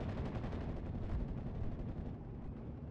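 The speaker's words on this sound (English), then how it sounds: "he is going to be opening up with his MG on their hideout building there" Sustained rapid machine-gun fire from a Sherman Firefly tank's MG in a Normandy 1944 World War II battle, dense continuous rattling bursts at steady volume with distant rumble underneath.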